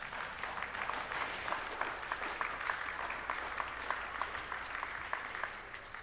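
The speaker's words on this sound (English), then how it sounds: "You can clap." A crowd applauds steadily, dense overlapping clapping that holds at an even level for several seconds without letting up.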